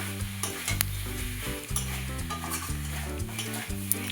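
A spoon stirs spices and turmeric frying in a pan for a fish curry, with a steady oily sizzle and repeated scraping strokes against the metal, close and fairly loud, no voices.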